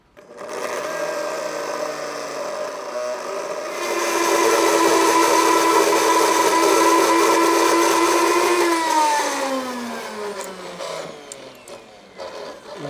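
A blender pureeing cherries whirs loudly and continuously, its motor pitch rising then dropping as it winds down near the end.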